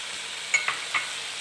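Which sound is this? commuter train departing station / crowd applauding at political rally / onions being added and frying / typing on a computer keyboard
onions being added and frying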